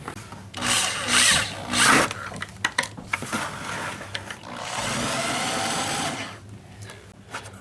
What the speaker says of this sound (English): When drilling a hole through plastic with a hole saw